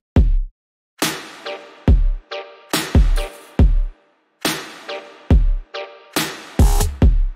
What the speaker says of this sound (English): So if I play that with just the drums